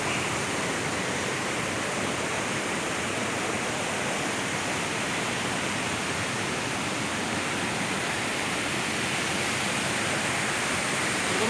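Kaigal waterfall in Chittoor district, India, pours in a steady, loud broadband roar of falling water that holds constant and close throughout, with no voices over it.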